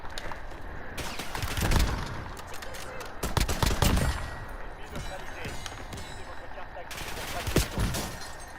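Gunfire in Call of Duty rings out in a busy firefight, with bursts of rapid shots and several louder cracks over a steady game-action background.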